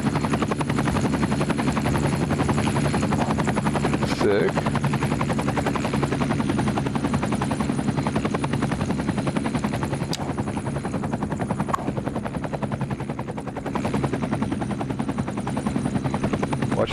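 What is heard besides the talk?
firefighting helicopter in video game Cities: Skylines II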